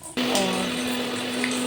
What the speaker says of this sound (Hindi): और ये देखिए मिक्सी का ढक्कन बंद करके मैं इसको पेस्ट बना दूँगी।